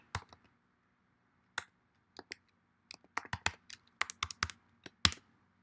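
Scattered keystrokes on a computer keyboard enter a new password, with sharp, close clicks in short irregular bursts separated by quiet gaps.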